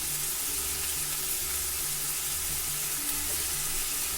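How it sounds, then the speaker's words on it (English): Onion frying in a hot pan for Chinese spring wraps gives a dense, steady, hissing sizzle heard up close, continuous and unbroken from start to finish with no talk. "And just put the onion."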